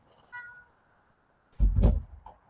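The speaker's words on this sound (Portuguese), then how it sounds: "meu gato quer sair do quarto" A house cat meows indoors, wanting out of a bedroom: a faint short meow, then a louder, closer one with a soft thump, in a quiet room without speech.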